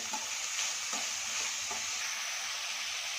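Onion and capsicum fry in a pan with a steady bright sizzle, broken by a few soft scrapes of stirring, heard close with no talking.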